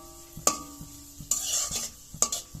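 Bay leaf and dried red chillies crackle in hot mustard oil, a soft sizzle broken by three sharp metal clinks of a spoon against the pan.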